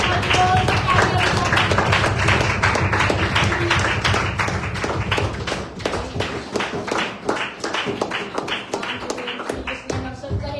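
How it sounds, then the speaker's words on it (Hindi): Loud rhythmic hand clapping from a congregation during Sunday praise and worship, crisp evenly spaced claps carrying on for ten seconds over a low bed of voices and music. "जोर से तालियां"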